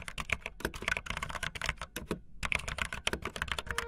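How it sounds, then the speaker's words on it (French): Rapid, clacky typing on a mechanical keyboard, close up, with dense irregular keystrokes and one brief pause midway. "c'est le son des claviers. Des claviers gaming"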